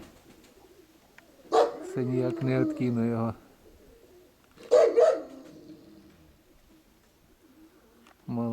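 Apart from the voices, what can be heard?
pigeons cooing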